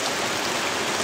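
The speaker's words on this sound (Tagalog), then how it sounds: "Kasi ang lakas talaga ng ulan" Heavy rain pours down in a steady, dense hiss of broadband noise, loud and unbroken for about a second.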